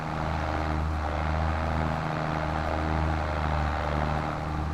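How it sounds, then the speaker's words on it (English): Case tractor engine in Farming Simulator 22, a steady low droning hum that holds at an even level throughout, close and continuous with no speech. "Love the sound of this case tractor."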